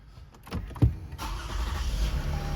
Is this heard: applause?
no